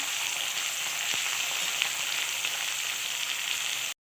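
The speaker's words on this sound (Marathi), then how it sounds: "आता टॉमॅटो टाकून घेऊ आपण आणि छानपैकी फ्राय करून घेऊया" Tomatoes fry with browned onions in a pan for a traditional urad dal, giving a steady, close sizzle that runs without a break and then cuts off abruptly.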